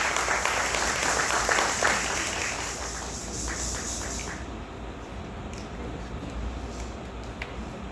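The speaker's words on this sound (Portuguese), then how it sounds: "Uma salva de palmas para a nossa militante da cultura da região." Applause from an audience at a solemn academy of letters inauguration ceremony, a dense continuous clapping that fades gradually toward the end, with a voice faintly audible beneath it.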